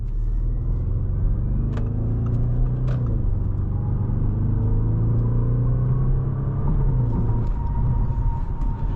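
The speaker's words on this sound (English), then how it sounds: "I love the pops and crackles from the exhaust." A 2016 Audi RS 7 drives with a deep, steady engine drone inside the cabin, broken by a few sharp exhaust pops and crackles that snap through the rumble.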